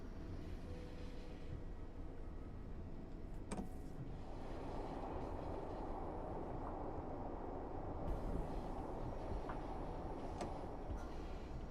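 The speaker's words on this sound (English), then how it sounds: "This looks exactly like when the DLR comes out of the tunnel." A DLR train in the Train Sim World 6 game rolls out of a tunnel. A steady low rumble of motor and wheels holds throughout and brightens as the train leaves the enclosed space.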